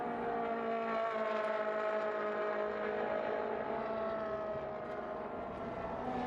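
Racing cars in the Trofeo Pirelli race at the Mugello circuit, a steady loud engine roar with layered harmonics that swells slightly and fades as the cars pass, with no voices.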